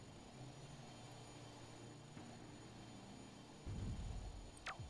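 An aircraft flies in the video game Warzone 2100 as a faint, steady engine drone that swells near the end, with a rising whistle-like tone and no talk.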